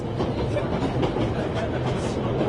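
A train rolls steadily along its rails in a video game set in wartime Germany, a constant, moderately loud rumble with faint rhythmic clatter and no speech.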